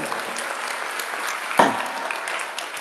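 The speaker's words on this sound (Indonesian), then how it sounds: "Wah, tepuk tangan buat sahabat Lampung Timur." A crowd applauds a visiting group of about 56 people from East Lampung, a steady wash of clapping with one sharp louder thump partway through, continuing evenly to the end.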